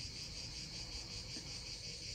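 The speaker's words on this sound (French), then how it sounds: "on écoute les cigales." Cicadas in the Alpes-Maritimes drone in a dense, continuous high buzz that pulses slightly in waves. The sound is steady and fairly loud throughout, with no voices.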